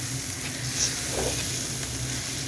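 Spice paste frying in a pan while being cooked down for a deshi magur fish and onion bhuna, a faint, steady sizzle with soft stirring and no talk.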